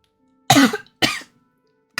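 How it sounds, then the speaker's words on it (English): Two sharp, harsh coughs close to the microphone, about half a second apart, followed by the start of a third; no talking, quiet otherwise. "coughing up a lung."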